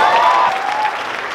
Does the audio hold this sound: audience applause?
yes